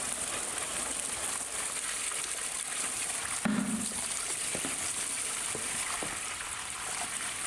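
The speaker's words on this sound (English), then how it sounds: "Even with water pouring through the large hole" Water streams steadily through a large slot cut in a plastic tub, a continuous trickling, splashing wash with a brief louder splash partway through, close by and fairly quiet, with no voices.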